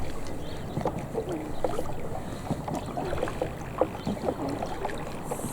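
A small boat turns on the water with hills beyond the bushes, giving a steady churn and lapping of water mixed with wind buffeting the microphone, and no voices.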